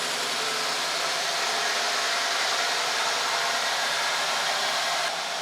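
A warm Mercedes engine idling as it comes up to temperature, a steady, even broadband rush with a low rumble underneath, continuous and fairly loud throughout with no talk.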